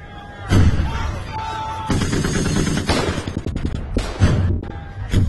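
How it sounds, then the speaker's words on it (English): Heavy battlefield gunfire bursts loud and sustained, rattling machine gun and booming mortar fire crashing in dense overlapping volleys, with someone talking over it. "The men stumbled into minefields, drawing torrents of machine gun and mortar fire."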